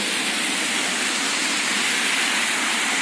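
Heavy rain pours down in a dense, steady roar that holds at a loud level throughout, with no voices.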